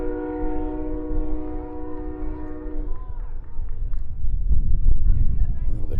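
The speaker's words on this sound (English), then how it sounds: "The train horn right on cue there." A train horn blares in a long steady tone near a college baseball field during a tournament game, then cuts off as rumbling rail noise carries on, with a commentator talking over it.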